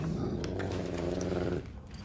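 A dog growls in a low, continuous rumble for about a second and a half, then trails off abruptly. The sound is close and fairly loud, with no talk over it.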